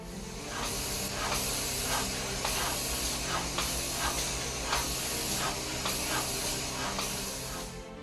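Spray painting in a wartime aircraft factory, heard as a continuous hissing spray with regular pulses roughly every second over a steady industrial hum, with no one speaking.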